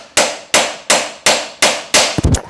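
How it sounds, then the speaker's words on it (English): Hammer blows tapping a new suspension bearing into a Trek Rail e-bike frame: six sharp, evenly spaced metallic strikes, close and loud, the last one rattling and ringing slightly differently as the bearing seats. "you can feel the note change the sound on the hammer when it actually stops"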